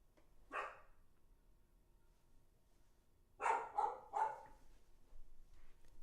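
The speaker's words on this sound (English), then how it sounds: "As my dog is barking." A dog barks in a home during a live online talk, first one bark, then a burst of three sharp barks close by, loud against a quiet room.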